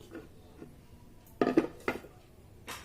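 A vegetable serving bowl from a dining table set is handled, giving a few clinking knocks of crockery, two close clusters in the middle and a lighter tap at the end, with no talk.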